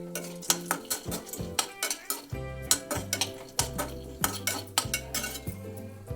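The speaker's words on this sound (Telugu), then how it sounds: "మరలా కొంచెం నెయ్యి వేసాను, జీడిపప్పులు వేయిస్తున్నానండి." Cashew nuts fry in ghee in a pan and are stirred with a metal spoon, so close, regular clinks and scrapes against the pan ring out over a soft sizzle.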